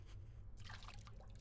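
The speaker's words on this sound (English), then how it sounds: "I was suddenly distracted by the sound of dripping water nearby." Faint, close water dripping and trickling in the horror video game Corpse Party: Book of Shadows, a soft liquid patter that swells briefly over low background hum.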